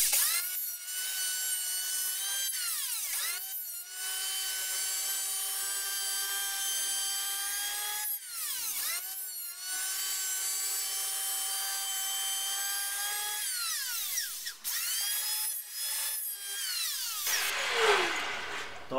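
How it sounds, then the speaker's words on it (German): An electric hand planer shaves the edge of a wooden interior door being shortened, its high whine running in several long passes broken by brief pauses, close and loud with no talk. "Aber wir fangen jetzt einmal an mit dem Abhobeln."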